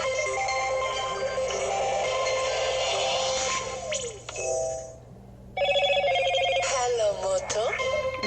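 A Motorola "Hello Moto" ringtone plays through repeated rings with pauses between them, loud and close, while a voice talks over part of it in the game Witcher 3.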